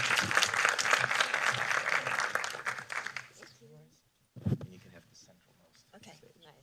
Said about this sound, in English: Please give a warm round of applause to Sarul